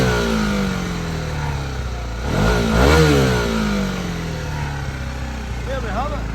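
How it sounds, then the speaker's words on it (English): Engine of a 2021 Honda CB125R motorcycle, a loud, close mid-pitched hum that climbs in a couple of revs to a peak and falls back toward idle, with a voice talking over it. "let me give it a few revs, you can hear how she sounds."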